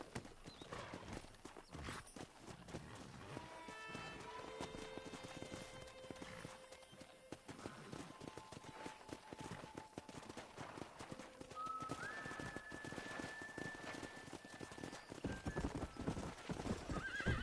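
Wild horses in the Red Dead Redemption video game clip-clop steadily throughout while several whinnies and neighs rise over the hoofbeats, joined by a quieter game soundtrack in the background.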